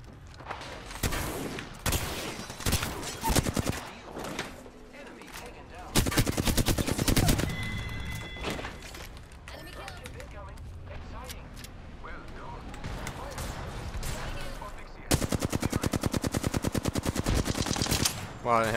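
Apex Legends gunfire comes in several loud bursts of rapid automatic shots separated by quieter gaps with scattered single shots and game effects, and a player talks in between.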